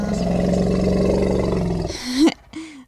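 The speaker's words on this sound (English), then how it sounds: "I think that's the elephant sound." Deep roaring animal call in the Stormy Haven game, a long loud rumbling roar followed by two short rising squeal-like blasts, close and alone.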